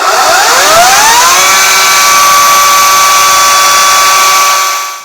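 A loud, steady electric motor whine from a Ryobi electric chainsaw spins up within the first second and holds at a constant high pitch, then cuts off at the end.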